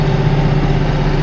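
A tractor engine runs steadily at a low, rumbling idle while being shifted into medium gear, loud and close with constant vibration and no talking.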